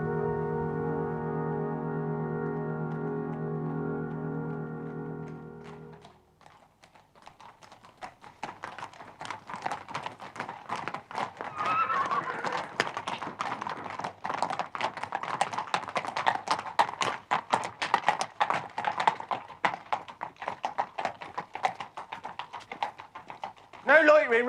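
A low droning tone gives way after a brief pause to rapid, dense clip-clopping hoofbeats that continue steadily, fairly close, under a faint background.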